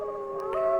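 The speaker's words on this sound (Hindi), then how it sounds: "कुत्ते भौंक रहे थे," A dog howls in a long, wavering, tonal cry as a spooky story sound effect, a single sustained call that swells slightly, heard alone with no barking.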